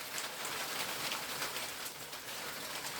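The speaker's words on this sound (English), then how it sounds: "after hearing the lovely noise of hail, you can just appreciate it for what it is, and it's beautiful" Hail falls steadily in a garden, a dense, even patter of hailstones on surfaces, moderately faint and continuous with no voices.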